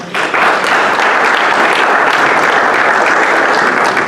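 Audience at a local area debate in Perdido breaks into steady applause, a dense wash of clapping hands that stays loud and even for several seconds.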